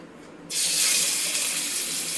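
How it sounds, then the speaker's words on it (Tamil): Water pours steadily from a tap after a short quiet lead-in, running continuously at close range in a home kitchen during cooking of a prawn dish, with no voices. "இந்த தண்ணியை லைட்டாக ஊற்றி வச்சுக்கிடலாம்"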